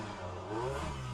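A racing car in the sim game rFactor 2 revs its engine with a faint transmission whine, a quiet, short, rising drone.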